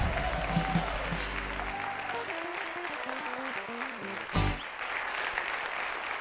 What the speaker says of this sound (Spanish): Y un fuerte aplauso pa Jorge Cuello.